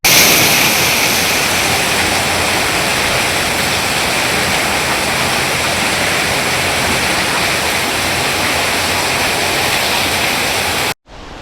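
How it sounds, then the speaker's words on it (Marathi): Heavy monsoon rain pours down during flooding in Alibag, a dense, loud, unbroken roar of falling water that continues steadily before cutting off briefly near the end. "पावसाने असा जोर पकडलाय ना"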